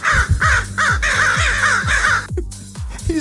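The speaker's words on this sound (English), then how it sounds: "here's a sound effect of a real crow" A real crow caws loudly and close, a rapid series of about seven harsh, evenly spaced calls followed by a couple of fainter caws, with no talking.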